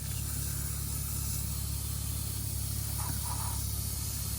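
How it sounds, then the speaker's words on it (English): A pressure washer sprays under a car with a steady, loud, close hiss that holds unbroken throughout. "haciéndole pressure wash abajo del pinche carro"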